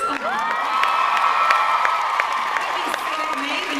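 A large Comic-Con panel audience claps, cheers and whoops for an actress, a dense, steady roar of applause and high shouts filling the whole stretch at close range.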